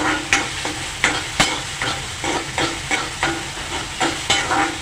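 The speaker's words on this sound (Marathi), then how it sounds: "टॉमॅटो घाला छानपैकी परतून घ्या गॅस म्हणजे थोडासा फास्ट करा" Onion and tomato are sautéed in a pan over a high flame, with a steady sizzle broken by regular, close scraping strokes of a spoon stirring roughly twice a second.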